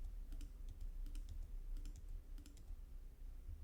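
Several light clicks of computer keys tapped in small clusters, crisp and close, with a low background hum and no talking.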